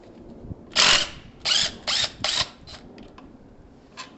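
Power tool working an exhaust bolt on a Piaggio Typhoon 125 scooter, firing in four short rattling bursts close by, then a couple of fainter brief hits.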